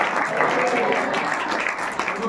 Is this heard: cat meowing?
no